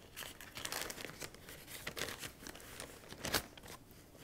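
Parchment paper crinkles and rustles as phyllo dough apple strudel is rolled up, a close, quiet series of irregular crackling bursts with one sharper crunch toward the end.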